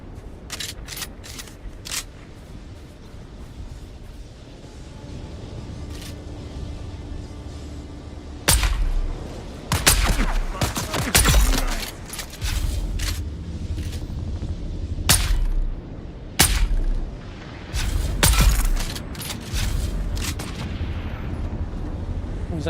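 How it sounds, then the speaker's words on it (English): Sniper gunfire in a desert survival video game, sharp, loud cracks arriving one by one at irregular intervals over a low rumbling background, some shots close together. "there's a sniper shooting at me"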